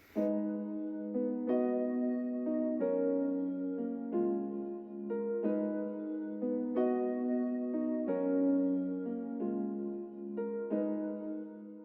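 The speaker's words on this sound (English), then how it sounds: "piano pad from Triton" Soft, sustained piano-like pad from a Korg Triton synth plays a slow progression of chords, each change blooming smoothly into the next, alone without voices.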